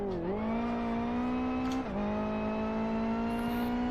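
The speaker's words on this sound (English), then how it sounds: "I can hear someone's engine over Discord." A steady car engine in the racing game Live for Speed drones at high revs, dipping briefly twice as gears shift, then holding a sustained whine.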